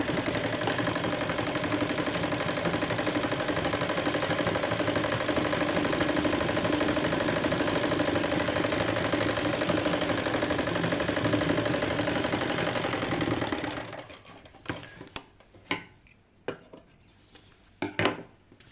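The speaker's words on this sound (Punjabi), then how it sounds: "ਪਹਿਲਾਂ ਆਪਾਂ ਇਸ ਤਰ੍ਹਾਂ ਇੱਕ ਸਲਾਈ ਲਾਉਣੀ ਹੈ" A sewing machine stitching cloth for a poncho design runs in a dense, steady whirring rattle for about thirteen seconds, then stops, followed by several sharp, separate clicks and knocks close by.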